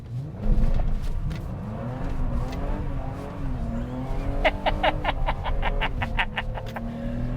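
A BMW 325i E30 engine drones and revs up and down while drifting, tires squealing in repeated short bursts, the screeching growing denser toward the end.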